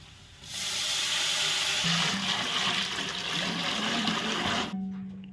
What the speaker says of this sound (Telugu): Next water పోసేసుకుందాం.